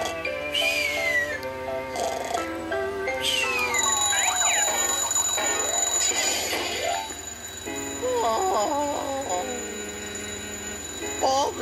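Cartoonish ringing and bell-like chimes in a children's cartoon mix with whistles and playful music, with repeated ringtone tones sounding over a busy, bouncy background.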